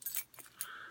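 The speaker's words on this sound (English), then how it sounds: "So, got my keys." Keys on a homemade 550 paracord lanyard with a trigger lock jangle in three quick bursts of bright metallic clinking, close by and with no talk.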